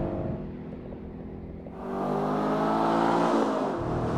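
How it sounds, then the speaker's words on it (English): Ford Mustang GT with the Track Pack revs hard down a race track straightaway, its engine note climbing steadily and loudly past the finish line with no talk over it. "the Mustang revs it out beautifully on the straightaway across the finish line"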